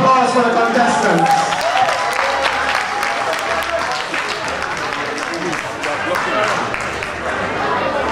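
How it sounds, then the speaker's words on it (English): An audience at the Miss Ghana Ireland 2009 pageant bursts into applause for the contestants, dense clapping filling the room for several seconds, with crowd noise and voices mixed in. "Shall we give another round of applause for the contestants?"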